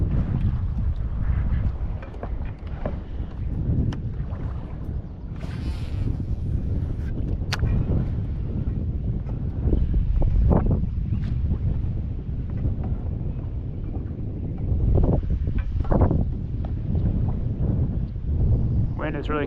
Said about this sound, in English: Wind is really kicking up here now.